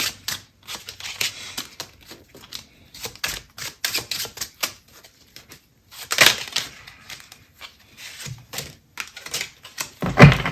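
Tarot cards are shuffled by hand in quick bursts of crisp riffling and flicking, close and fairly loud, separated by short pauses and ending with a sharper slap of cards.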